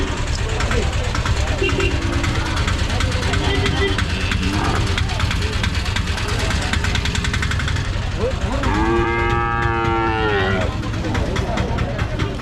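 Native cattle moo at the Vaniyambadi cattle market, one long drawn-out low near the end, heard through loud crowd chatter and engine and traffic noise of a busy outdoor market.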